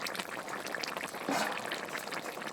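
A curry with new potatoes and pond fish simmers in a pan, a close, continuous bubbling boil with no voices over it.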